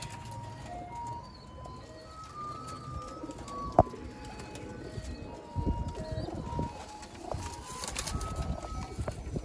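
Pigeons cooing on a Sialkoti rooftop loft, soft repeated coos and occasional chirps amid low background rustle, with one sharp click partway through.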